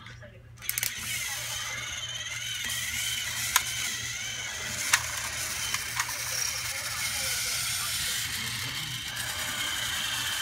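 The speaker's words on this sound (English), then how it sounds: "today I'm be showing you these trains racing together" Two battery-powered Thomas-style toy trains, Toby and Scruff, racing on a track, giving a steady whirring, ratcheting motor hum with a few sharp clicks, close and continuous.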